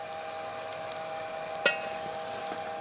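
Chow mein with spring onions stirred in a pan: a steady soft sizzle with a light scrape or clink partway through, close and fairly quiet, no talking.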